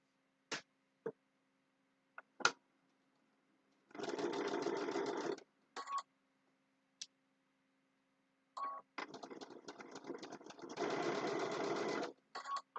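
Sewing machine stitching quilt fabric blocks in two close, loud runs, the second longer and broken into short bursts, with scattered clicks and taps between them.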